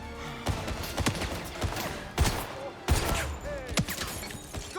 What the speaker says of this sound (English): Gunshots! He's here!